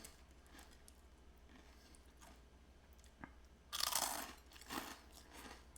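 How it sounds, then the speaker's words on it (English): Close crunching bites and chewing of crunchy crouton French fries, a few soft chews followed by one loud crisp crunch and another smaller crunch, alone with no talk. "Oh yeah, these are crunchy"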